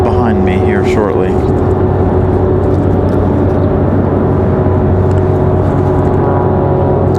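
An Air France airliner flies its downwind approach at Raleigh-Durham International Airport, a steady, distant jet roar that holds evenly for several seconds.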